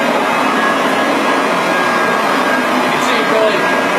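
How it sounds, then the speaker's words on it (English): A heavy 67-pound pile lifter vacuum cleaner with a soft nylon brush runs steadily and loud on an oriental area rug, a dense constant motor roar with brushing texture throughout. "It's a 67-pound vacuum cleaner with a nice soft nylon brush, and it's pretty intense"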